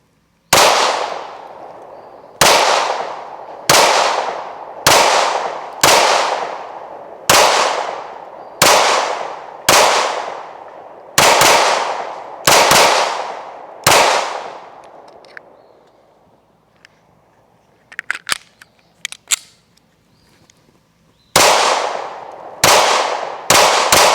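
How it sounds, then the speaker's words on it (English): Handgun rounds fired downrange from a Springfield Armory pistol at an outdoor range, a quick run of sharp, loud reports with ringing decays, a pause with faint clatter and small sounds, then a few more shots close together at the end. "So let's throw some rounds downrange."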